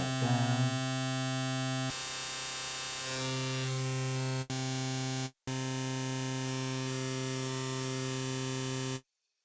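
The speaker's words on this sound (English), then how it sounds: "Where is the pink noise? There it is." A steady pink-noise synthesizer tone in Ableton, thick with broadband noise and humming drone, with a brief dropout midway before cutting off abruptly; a voice speaks briefly.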